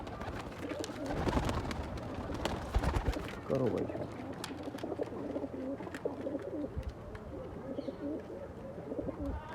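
Breeders' pigeons coo softly in the background amid a busy, crowded soundscape, with people talking nearby and scattered clicks and rustling.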